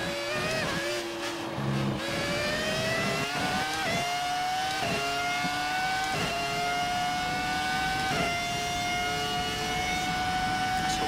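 BMW V10 engine of a Williams FW25 Formula One car in the F1 2018 racing game, a high-pitched screaming whine climbing steadily through the revs with brief dips at gear changes, loud and continuous.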